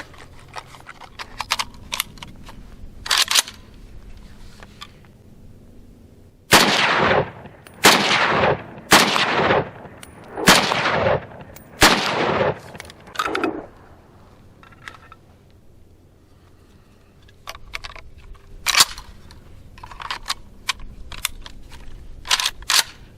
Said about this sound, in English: So let's fire 10 rounds and see what happens.